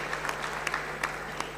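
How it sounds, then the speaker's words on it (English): Steady applause from the audience at a University of Kigali graduation ceremony, many hands clapping in a continuous moderate wash with a few sharper claps standing out, and no voices on top. "I think we should give you an applause."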